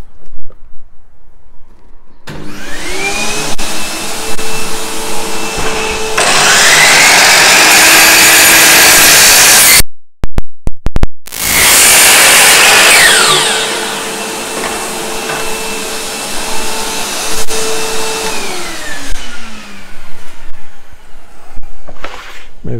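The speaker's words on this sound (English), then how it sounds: "let me turn on the vacuum cleaner and I'll make that cut." A steady vacuum whine runs throughout while a miter saw spins up and cuts through wood twice, loud and close, with no talking.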